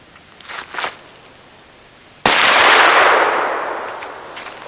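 A single unsuppressed gunshot cracks loudly into dirt at close range, its sharp report trailing off over the next couple of seconds, preceded by faint shuffling.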